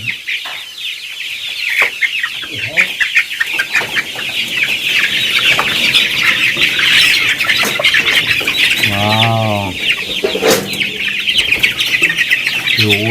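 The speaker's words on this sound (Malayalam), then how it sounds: "കോഴികൾ നമ്മുടെ ക്യാമറയിലേക്ക് ഓടിച്ചാടി വരികയാണ്" A crowd of chickens squawk and cluck loudly and nonstop at a poultry farm, a dense close chorus with one sharper, rising squawk standing out near the end.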